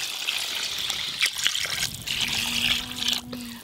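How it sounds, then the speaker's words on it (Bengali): Water poured into a country chicken curry being made with ground spices for a thin red gravy, a steady close trickle and splash running for a few seconds, with a low hum appearing partway through. "পাতলা ঝোল হবে তো, তাই একটু বেশি করে জল দিচ্ছি।"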